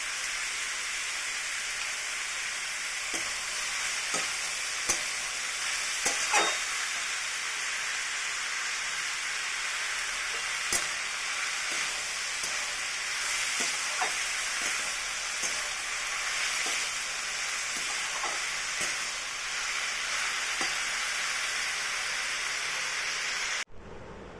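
Food fries and sizzles in a pan with a steady hiss for a long stretch, and a spoon knocks and scrapes the pan at irregular moments as it is stirred.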